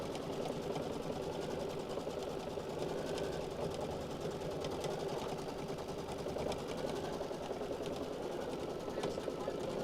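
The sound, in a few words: Brother Solaris Vision sewing machine quilting borders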